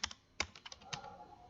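Keys on a computer keyboard being typed on while entering input for a Java program, a quick irregular burst of sharp clicks with a few louder strikes, close and fairly quiet with no talking.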